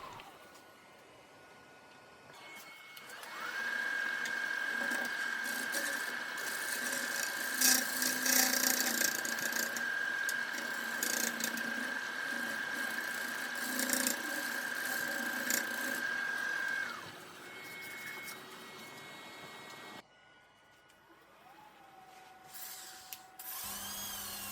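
A bottoming bowl gouge cuts a spinning pine burl on a wood lathe, giving a steady whirring hum with rough scraping texture for over ten seconds. The motor tone then drops away and the sound ends in quieter shop noise.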